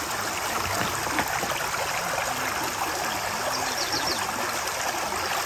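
Water rushes and trickles steadily through a gold sluice while an indicator mat is washed out, a continuous close, full-bodied splashing flow with no talk.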